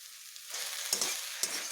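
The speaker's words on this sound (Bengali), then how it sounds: "বেশ ভাজা ভাজা হচ্ছে" Arum leaf dish frying in a pan, a steady close hiss of sizzling oil with two short louder bursts as the food is turned, no voices.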